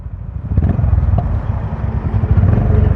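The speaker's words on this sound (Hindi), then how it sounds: "Roaring of bikes." Several motorcycle engines rumble and roar together nearby near Suchetgarh on the India–Pakistan border, a steady loud idling growl with occasional revs and clatter.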